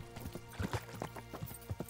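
Horse hooves clip-clopping at a fast gallop in the medieval video game Kingdom Come: Deliverance, a quick uneven rhythm of soft thuds over a low steady background, fairly close, with no talk.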